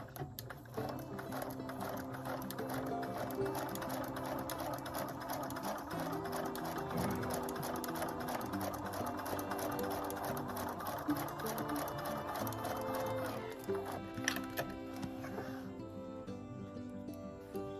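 Husqvarna Viking #1+ sewing machine stitching fabric with a steady, rapid mechanical whir and needle chatter that runs continuously and close, with a change in tone near the end.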